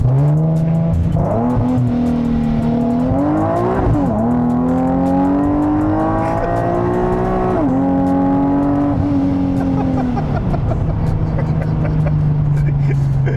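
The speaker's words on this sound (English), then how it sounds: "let's do a pull here" A supercharged Nissan 370Z on stock tires and stock suspension makes a hard pull, its engine roaring and climbing through gears with pitch rising and dropping at each shift, loud and close throughout.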